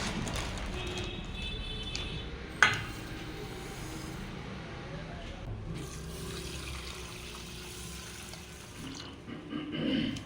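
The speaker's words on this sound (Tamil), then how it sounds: "இப்போ தண்ணி ஊற்றி ஊற வச்சாச்சு" Water poured over small short-grain rice in a pot to soak it for plain biryani, a steady rushing pour with a brief clatter partway through and no voices.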